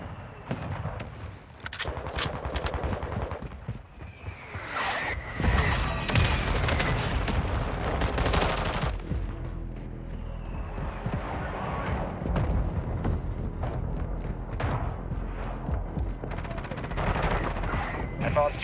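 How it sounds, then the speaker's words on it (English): Combat in a military shooter video game: bursts of automatic gunfire and booming mortar impacts crackle and thump throughout, dense and loud, with radio-style voice callouts mixed in. "Mortar strike on the way."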